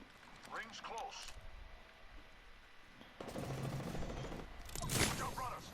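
Gunfire bursts in an Apex Legends battle royale match, loud and dense around the middle and end, with people talking over the shooting.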